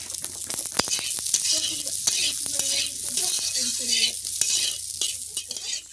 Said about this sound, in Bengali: হয়ে গেছে আমার ফুলকপিটা ভাজা